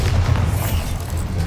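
A Bombarda spell explodes in Hogwarts Legacy, a loud, low, rumbling boom that fills the short moment with deep resonance.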